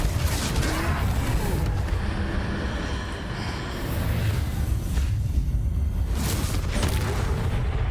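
Fiery blast of the Confringo spell in Hogwarts Legacy during a troll fight, a loud sustained rumbling explosion with repeated booming surges and crackling debris throughout.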